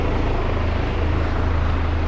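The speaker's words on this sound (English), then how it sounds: "You get choppers coming in at all hours of the day and night." A helicopter flying toward a nearby hospital, its steady low rotor thrum and engine drone loud and continuous overhead, with no voices.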